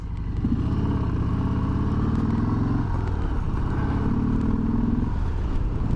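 Harley-Davidson motorcycle riding off at night, a steady loud, rumbling engine drone close by with slight shifts in pitch as it pulls away, throughout and without speech.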